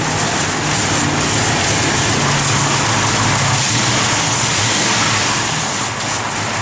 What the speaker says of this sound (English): We'll have Jordy fire it up. Yeah, nice little cam to it.